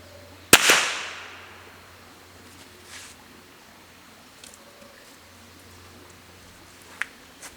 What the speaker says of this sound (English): Let's take a shot.